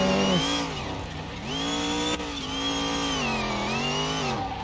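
Whining supercharger on a drifting car in Car Mechanic Simulator 2021, a loud continuous tonal whine that rises and falls with engine speed and holds steady throughout, alone with no talk.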